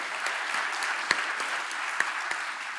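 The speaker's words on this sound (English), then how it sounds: "Percival joins in the applause." Sustained applause fills the hall at the CPLF Awards 2025 ceremony, a dense even wash of clapping with a few sharper individual claps standing out.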